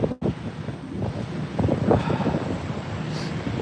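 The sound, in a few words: strong wind blowing into the microphone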